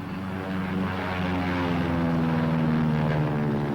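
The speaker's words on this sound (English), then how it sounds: "Now, these planes are practicing short field landings and takeoffs." Propeller training airplanes practicing short-field landings and takeoffs at an airfield, a loud, steady engine drone with a rising pitch that holds throughout, no voices.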